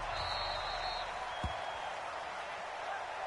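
An NFL stadium crowd before a Seahawks versus Cardinals game roars and applauds in a steady, dense wash, with one brief thump partway through.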